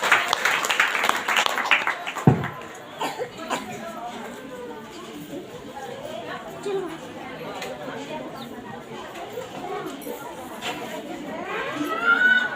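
Applause from a church congregation at a Sunday prayer meeting opens the clip, then fades into murmuring chatter and voices, with clapping swelling again briefly near the end.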